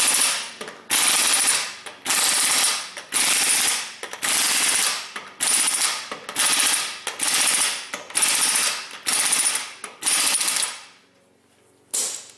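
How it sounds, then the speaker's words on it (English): A ratchet wrench clicking rapidly in a steady run of about a dozen loud bursts as wheel lug nuts on a GM vehicle are tightened during a front wheel bearing and hub assembly job, with a short quiet pause near the end. "So I just run them down until they all touch, and then we go through and torque them down."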